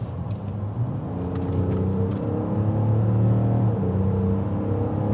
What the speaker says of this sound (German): Aber ich kann ja einmal Vollgas geben hier auf Sport.